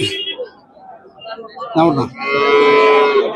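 Crossbred cattle low at a cow market in Karimangalam, one close, loud moo swelling and holding near the end, with crowd murmur and voices around it.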